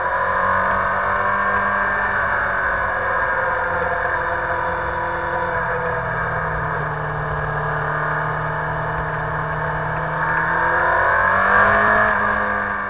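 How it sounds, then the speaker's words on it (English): Motorcycle with a quiet stock muffler running close by, a steady mid-pitched engine drone with a held tone that swells into a brief rev near the end. "I want to hear the real sound that the motorcycle's making."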